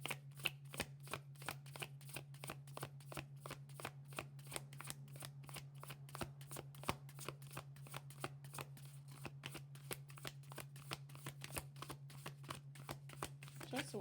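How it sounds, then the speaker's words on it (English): Tarot cards are shuffled continuously in quick, even riffling taps close to the microphone, with a steady low hum underneath. "I'm supposed to keep shuffling"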